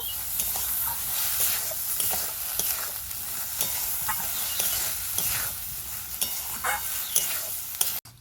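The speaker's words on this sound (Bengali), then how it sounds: "এভাবে নাড়তে থাকবো, না হয় নিচে লেগে যাবে।" A grated carrot and sugar mixture cooking for a Bengali sandesh is stirred steadily in a pan, with continuous sizzling hiss and repeated scraping strokes of the spoon, close up and without talking.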